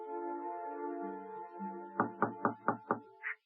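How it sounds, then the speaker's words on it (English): Five evenly spaced knocks on a door as a radio drama sound effect, sharp and close. They come after a sustained tonal musical passage and end with a brief higher note. "Whenever there was a knock at the door,"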